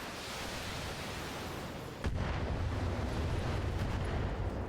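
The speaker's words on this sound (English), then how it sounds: "Still, why is there more artillery fire?" Artillery fire in the BattleTech video game sends a rushing, noisy rumble, then a sharp explosion hits about two seconds in and leaves a louder, heavier roar.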